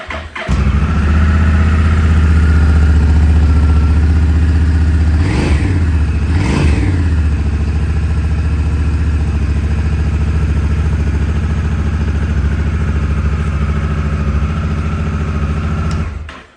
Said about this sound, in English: another thing I like about this bike is the sound it makes when you turn it on.